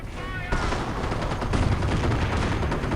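In a Company of Heroes match, StuG assault guns and other battlefield weapons fire, making loud, dense, continuous gunfire and blasts with a sharp burst near the start.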